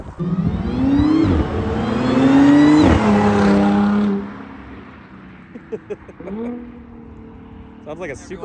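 Tuned Audi S4 with a supercharged V6 revs hard and accelerates with a rising, wailing pitch that climbs, drops at a gear change and climbs again, then backs off to a lower drone with a brief second rise; loud and close.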